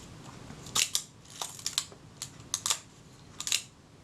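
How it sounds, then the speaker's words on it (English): Kodak Retina Reflex III camera with a faulty shutter being cocked, giving several sharp mechanical clicks and ratchets in irregular pairs, close and crisp against a quiet room. "So, the Reflex 3 doesn't fully cock the shutter."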